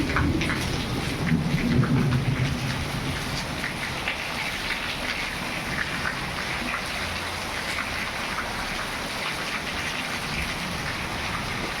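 Heavy rain pours steadily over a farm, a dense, loud, continuous roar with low thunder rumbling early on, then an even downpour to the end.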